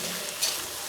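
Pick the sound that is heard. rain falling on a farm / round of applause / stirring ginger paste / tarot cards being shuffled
stirring ginger paste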